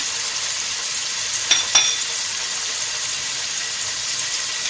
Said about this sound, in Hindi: अब इसमें हम राई डालेंगे, जीरा, साबुत धनिया